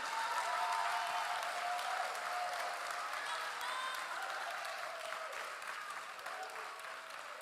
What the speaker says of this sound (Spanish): da un aplauso fuerte que se oiga en el cielo.